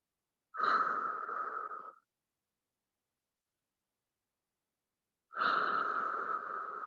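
Two slow, deep breaths during a stretching class, each a close, airy exhale of about a second and a half, separated by a few seconds of silence.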